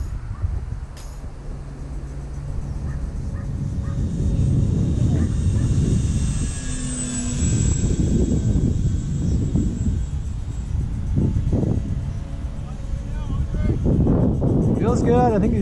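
Flex Innovations Mamba 10 RC airplane flying in training aerobatic mode, its electric motor droning and wavering at a distance over steady wind rumble, with a voice talking across much of the flight.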